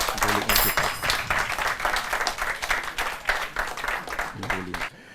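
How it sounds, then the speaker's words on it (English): An audience applauds a contestant at a university law quiz competition, a full burst of clapping that holds steady for several seconds before dropping away, with a voice briefly heard over it. "A round of applause for him."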